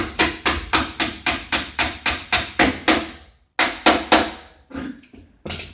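Sharp metallic hammer strikes drive a bifold door's bottom pin back in, repeating in a fast, even rhythm, about a dozen blows, then a brief pause and a few more uneven taps, close and loud.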